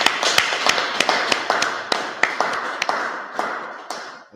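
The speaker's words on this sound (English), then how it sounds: "All right, clap it up." An audience at a live gathering in Leicester claps along in a steady rhythm, sharp hand claps repeating about every third of a second over a dense wash of crowd noise, loud and close, with no talking.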